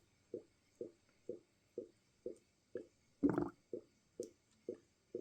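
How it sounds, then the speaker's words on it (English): CO2 airlocks on fermenting homemade blackberry wine bubble in a steady rhythm of soft, close plops about every half second, with one louder gurgling burst partway through. "You should be able to hear those CO2 locks bubbling and moving along"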